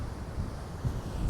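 Wind gusting across a microphone on a hike near the top of Eldorado Falls at Walker Ranch Park, a low rumbling buffet that is loud and close, with no talk.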